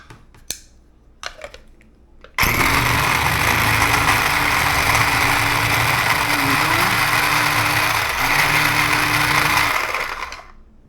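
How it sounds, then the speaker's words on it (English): A small micro mini food processor whirs loudly and steadily for about eight seconds, grinding cold tilapia into a paste, after a few light clicks and taps, then winds down. "I went and dug up my little micro mini food processor"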